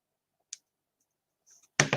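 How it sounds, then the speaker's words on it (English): Nippers snip thread while a top hat is being crafted, a sharp single click followed by faint rustling and then a louder double snip, close up in an otherwise quiet room. "we'll use my nippers again"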